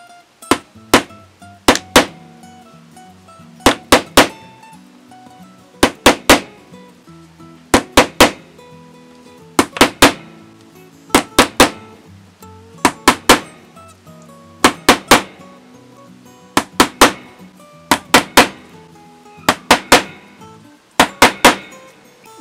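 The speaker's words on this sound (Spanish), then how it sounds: "vamos a señalar con una aguja en cada punto donde va a ir un orificio. Entonces vamos a darle unos pequeños golpes para poder señalarlos" A needle is tapped with small blows to mark hole positions on a circuit board, giving sharp, bright clicks in quick clusters of two or three that repeat at steady intervals, loud and close.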